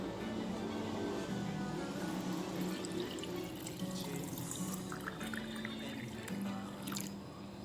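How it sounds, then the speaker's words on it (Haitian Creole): Water pours steadily into a glass jar, a continuous trickling and splashing stream that fills the whole moment, close and fairly quiet, with no talking. "n'a juste ajouter de l'eau"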